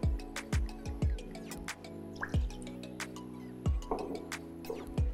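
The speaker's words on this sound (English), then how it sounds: "Then 20 mils of the St. Felix Bitter Citrus Aperitivo." St. Felix Bitter Citrus Aperitivo is poured into a measure for a cocktail, heard as a series of close, wet drips and glugs with small squishy splashes in an uneven rhythm.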